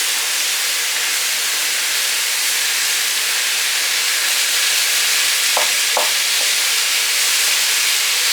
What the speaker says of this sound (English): I'm going to start by putting in my 2 pounds of ground beef into my pan